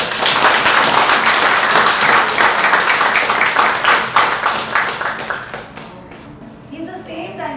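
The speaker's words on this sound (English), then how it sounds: "So clap for all the diamonds here." An audience at a spiritual talk breaks into loud, close, dense clapping that stays strong for about five seconds, then thins into scattered claps and fades out.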